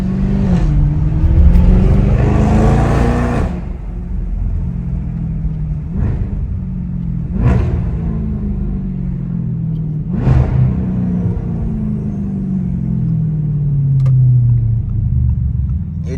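A straight-piped Audi S7 rumbles loudly and steadily while driving through downtown Toronto, with rising revs early on, several sharp bursts spaced through the drive, and a deep low drone throughout.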